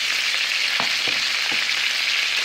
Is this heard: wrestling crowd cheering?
no